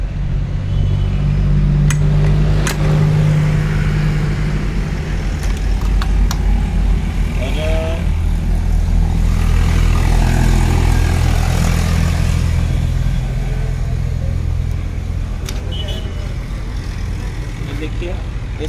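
A new Kisan Kranti tractor engine runs steadily with a low, continuous rumble, close and loud throughout, while a person talks over it.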